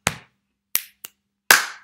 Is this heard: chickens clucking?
no